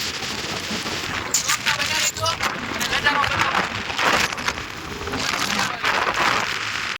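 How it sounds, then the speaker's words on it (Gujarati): Rain falls during a motorbike ride from Talaja to Junagadh, making a dense, continuous hiss. Scattered patters and clatters rise and fall within the steady wash of noise. "અહીંયા વરસાદ આવી ગયો છે"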